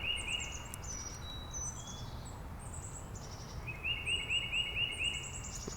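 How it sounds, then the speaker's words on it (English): Bright, high chirps and short tweeting phrases from birds repeat over a low background rumble, coming in bursts with brief pauses. "The birds are coming back, tweeting."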